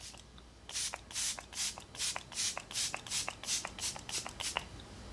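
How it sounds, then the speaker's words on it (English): A hydrating face spray mists onto the cheeks in a run of about a dozen quick, close, soft hissing bursts with a steady, even rhythm. "So I find if I spray my cheeks especially,"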